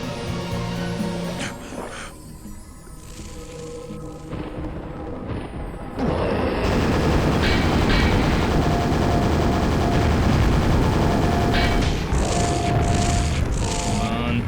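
Nail gun firing in Quake, a rapid, loud stream of repeated shots amid explosions and combat noise that becomes more intense and sustained after the first few seconds.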